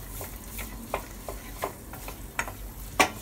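Onions frying in butter in a pan, with a steady sizzle under sharp, irregular clinks and scrapes of a utensil stirring them, the strongest knock near the end; no one speaks.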